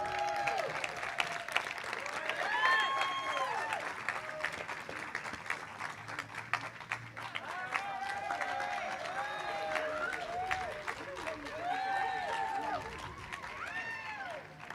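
Soft, continuous audience clapping at an awards announcement sits low in the mix while someone talks over it for most of the stretch.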